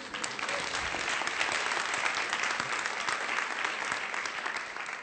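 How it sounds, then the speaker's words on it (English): Sustained applause from an audience at a nonviolent-action activist training, a dense, steady wash of many hands clapping at close range that holds for the whole stretch without speech. "I want you all to give yourselves a round of applause."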